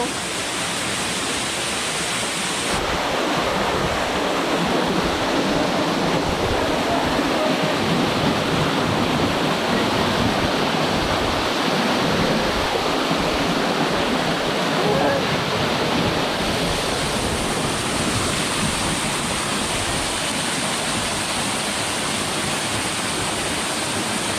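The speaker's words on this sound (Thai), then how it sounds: "น้ำตกก็เป็นของเรา" Water pours steadily at a waterfall in Wadi Tiwi, Oman, a dense, continuous rushing roar that stays loud and unbroken throughout.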